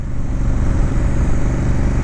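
A loud motorcycle engine with the exhaust baffle removed runs hard with a continuous throaty exhaust roar, close by and steady across the whole moment.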